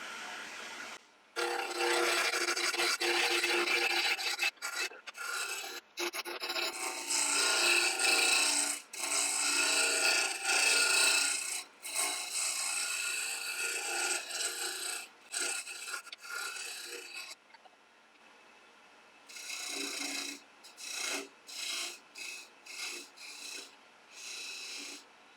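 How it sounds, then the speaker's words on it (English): Spindle roughing gouge cuts a wooden workshop mallet blank spinning on a lathe at about 1600 RPM, giving loud continuous rasping scrapes in long bursts, then shorter choppy cuts near the end, with no talking. "I'll just be using a spindle roughing gouge."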